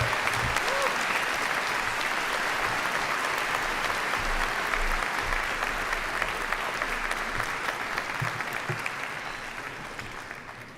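Commencement audience at SUNY Oswego's College of Business and Entrepreneurship ceremony gives sustained, dense applause that fills the hall evenly for about eleven seconds, fading slightly at the end.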